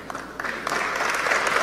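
Sustained applause from a large assembly right after a formal vote adopts an amended decision, building from scattered claps into a steady, dense roar that fills the room.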